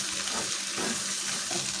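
Onion sautéing in a pan for a sausage, tomato and pepper dish, a close, even sizzle with faint stirring scrapes and no voice.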